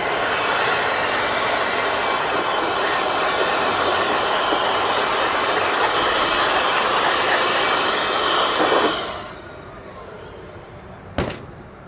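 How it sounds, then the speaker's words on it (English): Blower dusting out electrical cabinets during maintenance: a loud, steady rushing hiss of air runs close-up for about nine seconds, then cuts off sharply, leaving quiet with one brief knock. "you want to go in there with a blower to dust out"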